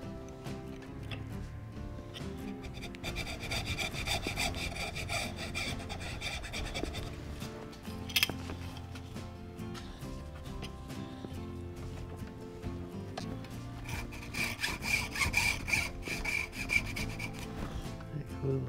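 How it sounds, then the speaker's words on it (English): A hacksaw cuts a bent wood roof bow for a mud wagon in a coach shop, with rhythmic back-and-forth rasping strokes that are steady and close and carry no talk. "I'll just take my hacksaw and I'll take one cut here and one cut here."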